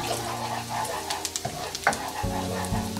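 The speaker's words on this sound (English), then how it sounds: "Okay, the butter is too hot. We're gonna add the garlic." Garlic sizzling in hot butter in a wok while making shrimp and broccoli, a steady frying hiss with scattered crackles and a few light stirring knocks, close and fairly loud with no talking.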